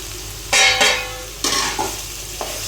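Chicken dropped into frying masala in a pressure cooker, bursting into a loud sudden sizzle twice in quick succession, then a third hiss that fades, with a faint clink of a utensil.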